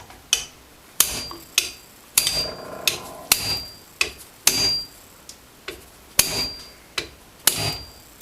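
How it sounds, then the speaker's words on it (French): Repeated sharp hammer blows driving a seal into a Suzuki Jimny transfer case, about a dozen close, metallic strikes in an uneven rhythm with short ringing decays between them. "avec le marteau."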